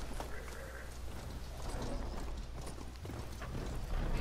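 Horse galloping in Horizon Forbidden West, rapid hoofbeats running continuously under a dense, loud wash of wind and ambient game sound.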